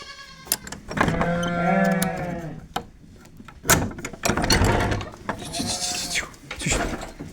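Newly bought goats bleat in a rural yard on a drizzly spring day, a couple of wavering calls near the start with further bleats and scattered talk and clatter later.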